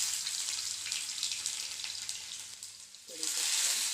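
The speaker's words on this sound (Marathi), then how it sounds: "लसूण हा जरा चांगला परतून द्यायचा, म्हणजे चांगला वास येतो." Garlic and asafoetida sizzle steadily in hot oil as the base for vermicelli upma, a close, continuous crackling hiss that briefly dips and then flares louder near the end, with no talking.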